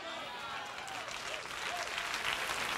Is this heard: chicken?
no